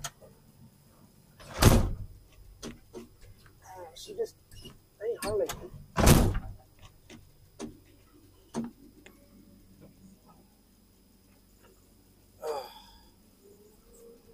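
A squeaky cab window on a road building machine working rock, giving sharp intermittent squeaks and creaks at irregular intervals over a low engine rumble, with brief talk in between.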